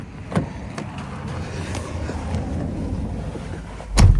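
Toyota Fortuner cruising on a highway, a steady broadband road and wind rumble from inside the moving vehicle with a couple of brief knocks, the loudest near the end.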